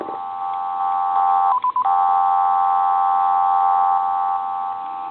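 Steady dual-tone dialing signal from a repaired hand-carved wooden dragon telephone, one long continuous tone with a brief stutter of short beeps partway through, close and clear with no talking.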